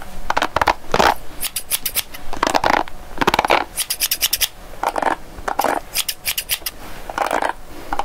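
Scissors snip stray beard hairs close to the ear during a barber trim, a run of crisp, rapid metallic cuts in repeated bursts with short pauses between, no talking.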